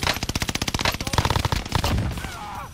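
Rapid automatic gunfire in the battle royale game Call of Duty Warzone: a fast, evenly spaced burst of loud close shots lasting about two seconds, tapering into a brief scattered tail with faint background game sounds.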